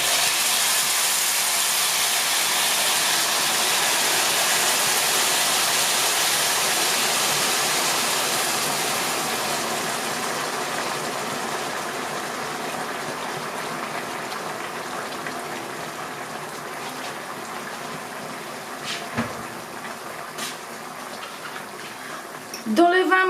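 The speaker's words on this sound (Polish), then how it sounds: "zalewamy wrzątkiem" Boiling water is poured over pork pieces in a pot for goulash, producing a loud, continuous rushing splash that gradually softens and thins out, followed by a few clinks and handling sounds near the end.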